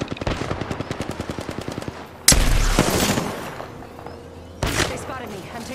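Rapid automatic weapon fire from an Apex Legends firefight, a fast rattling burst of evenly spaced shots followed by louder heavy impacts and more bursts, with a player's voice talking over the action.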